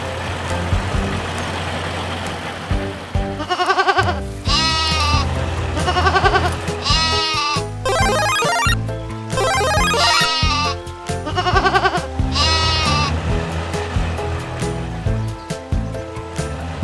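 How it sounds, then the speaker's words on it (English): Toy goats on a farm animal diorama bleat several times in bursts over continuous background music, with quavering cries recurring at intervals. "The goats are the first"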